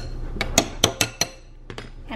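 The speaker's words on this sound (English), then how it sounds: "And I'm just gonna stir that." A spoon stirring oatmeal in a bowl, about six sharp close clinks against the dish in quick succession, a pause, then a few softer taps.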